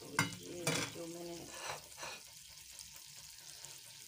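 Mutton pieces fry in butter in a pan, with a soft sizzle and a few stirring scrapes up close, fading to a low crackle toward the end.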